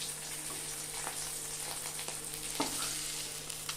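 Fish frying in oil gives a steady, even sizzle with a broad hiss throughout, a few soft pops and crackles, and a constant low hum underneath.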